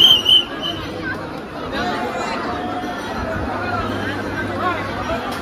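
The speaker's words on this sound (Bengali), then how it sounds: "দেখো কি পরিমাণে ভিড়" Steady babble of a huge crowd of devotees at Tarakeswar railway station as people board a train, continuous overlapping chatter and movement heard up close and fairly loud.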